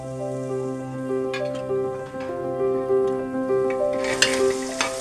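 Crumbled boiled eggs frying in a pan with green chillies for egg bhurji, a steady close sizzle with a spatula stirring and occasional clinks against the pan, no talking.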